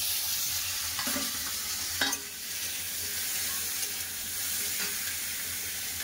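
A spice masala of ginger, garlic, onion, green chilli and tomato fries in a pan with a soft, steady sizzle and a few light stirring scrapes, fairly quiet and close, with no voices.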